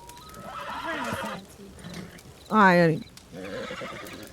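A horse neighs loudly in a video game, a single bright whinny of about half a second in the middle, with a person talking before and after it and faint clip-clop in the background.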